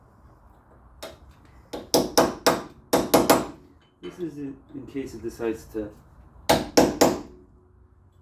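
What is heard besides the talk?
hammering down a locking tab on a wheel hub nut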